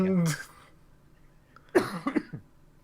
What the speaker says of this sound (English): I'm gonna mute Uh, myself while I cough